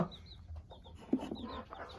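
A hen clucks softly in a coop, with a few short low clucks close by and faint chirps of chicks in the background.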